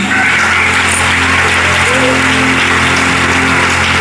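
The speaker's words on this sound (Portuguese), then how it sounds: "Aplauda o nome do Senhor muito forte." A church congregation at a night vigil claps loudly and continuously, a dense, even wash of applause filling the room with a steady low hum beneath it.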